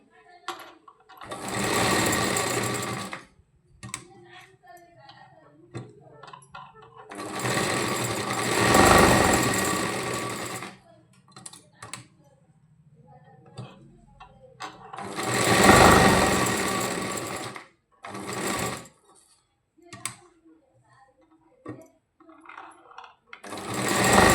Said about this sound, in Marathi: हळूवारपणे स्टिच करत जायचं आहे आपल्याला.